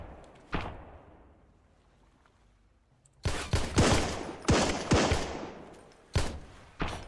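Enemy gunfire in the survival game Sunkenland, sharp shots cracking out one at a time, a single report early on and then a cluster of loud, close bursts after a quiet pause.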